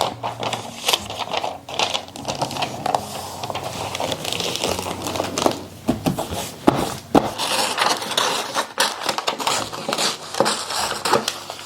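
Wrapping paper crinkles and rustles as it is folded around a book, with dense close-up crackling and scattered sharper creases throughout and no talking.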